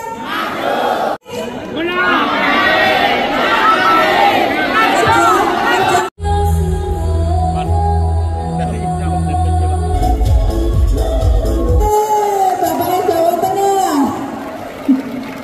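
A large crowd at a Golkar political rally in Central Java performs a loud chant in unison. A stretch of amplified hum and speaker talk breaks in before the crowd noise resumes.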